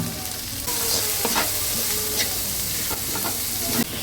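Chopped banana flower sautéing in hot oil in a pan, giving a loud continuous sizzle broken by several scraping stirs, heard close with no voices.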